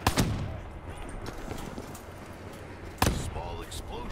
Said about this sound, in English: Small explosion, small success.